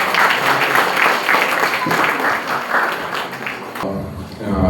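Audience clapping to welcome a guest missionary at a Christmas gathering, a sustained burst of handclaps that fades near the end as a voice begins speaking.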